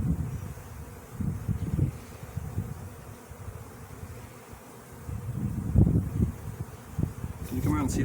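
Bees buzzing around a hive box during a package bee install and feeding, a low hum with bursts of louder buzzing and faint rustling close by.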